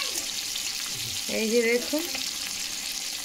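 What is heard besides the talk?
hilsa fish frying in oil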